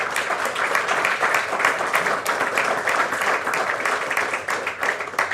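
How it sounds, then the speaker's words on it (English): A conference audience applauds the speakers after a talk on a European carbon removal strategy. The clapping is dense and sustained, filling the room evenly at moderate loudness from start to finish. "A round of applause for our speakers"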